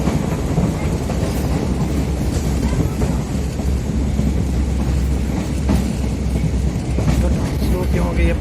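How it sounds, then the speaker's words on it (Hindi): An airport train in Bangalore rumbles steadily beneath the Trumpet flyover, a loud continuous roar of wheels and carriages with faint rhythmic clacking throughout. "ट्रम्पेट फ्लाईओवर की नीचे से ये ट्रेन निकलेगी"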